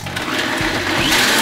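A kitchen blender whirs steadily as it purees blanched lemongrass and green onion with sea salt, vegetable oil and water, a loud continuous motor hum that rises slightly in pitch toward the end.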